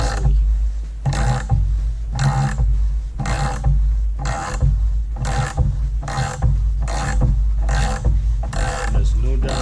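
A sight pusher tool cranks a night sight out of a Springfield XD slide, producing a regular series of ratcheting scrapes and creaks, each turn a short gritty burst over a low hum.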